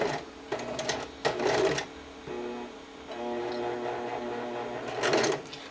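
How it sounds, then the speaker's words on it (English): A home sewing machine runs steadily while stitching a zigzag seam, its even mechanical whir broken by a few sharper clicks and taps near the start and end, close and fairly loud with no talk. "So I sewed an inch forward, and then I'm going to use my reverse button to reverse backwards."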